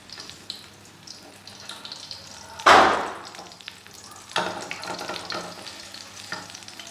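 Masala bread toast frying in a pan, a steady soft sizzle with a louder hiss as the toast is flipped, then more sizzling as it is pressed down. No one speaks.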